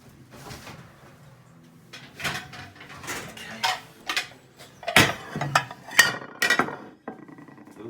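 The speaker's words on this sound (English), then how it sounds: "So we get the plates out." Plates are taken out of a kitchen cupboard and set down, several sharp ceramic clinks and clatters spread over a few seconds, loudest near the end, close by against a quiet room.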